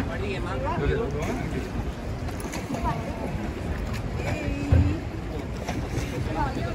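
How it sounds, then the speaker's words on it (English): A traghetto gondola ferry rowed by two oarsmen across Venice's Grand Canal: water slaps and splashes against the hull with steady wind noise on the microphone and people talking nearby. "We're on a traghetto, which just crosses the uh, Grand Canal to get from one island to another."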